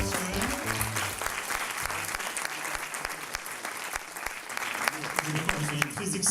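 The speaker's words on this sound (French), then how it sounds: "Alors on peut applaudir Marketing et" Steady applause from an audience fills the room at an awards ceremony, dense clapping that continues for several seconds while a few voices murmur underneath.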